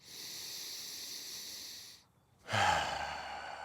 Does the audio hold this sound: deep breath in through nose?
yes